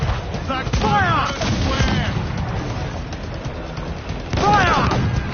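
Cannon fire from ships in Assassin's Creed IV Black Flag, heavy booms rolling under shouted commands from a crew, with a dense volley at the start and another near the end.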